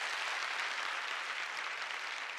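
A theater audience at a live comedy show applauds steadily, a dense wash of clapping that holds evenly for a couple of seconds with no voices on top.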